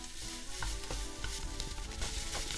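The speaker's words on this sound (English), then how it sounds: "once the garlic has started sizzling like this" Garlic sizzles in hot oil in a pan while a namul side dish is prepared, a close steady crackling hiss with a few soft scrapes and clicks mixed in.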